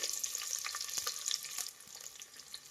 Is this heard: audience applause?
no